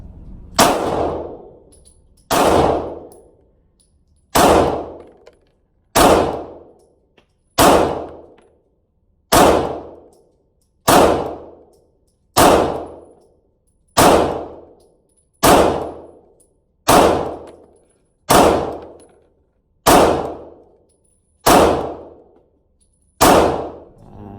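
A Sig Sauer P320RX compact pistol fires about fifteen evenly spaced rounds at steel targets five yards away, each shot a bright ringing clang that decays before the next, at a steady unhurried pace.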